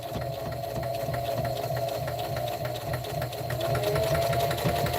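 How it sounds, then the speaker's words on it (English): A sewing machine back stitching through a dish drying mat pad, a steady close mechanical whir with a fast regular needle rhythm running throughout, slightly louder toward the end. "I'm going to sew, I'm going to back stitch, because I want to leave a hole or an area for turning my work"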